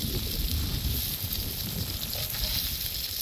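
Campfire at a night camping spot where a bundle of cotton has caught fire, giving a steady close crackling hiss with soft low rumble throughout, no talking.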